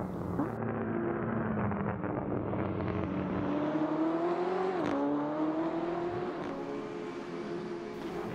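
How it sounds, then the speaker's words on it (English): A modded Bayro EGT car in the Assetto Corsa racing game, its engine rising and falling steadily through revs with a rough, popping exhaust crackle off throttle, loud and close throughout with no talking. "the exhaust crackle sounds, well, completely broken when you're off the throttle"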